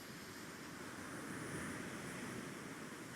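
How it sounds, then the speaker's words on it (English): Steady broadband roar of Great Lakes waves washing in at sunset, continuous and fairly even throughout, with some wind noise blended in and no voices. "the waves are incredible"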